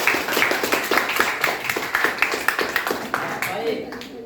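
A classroom group claps for a student, a quick run of sharp, fairly even claps that carries on for a few seconds and then thins out toward the end, with voices underneath.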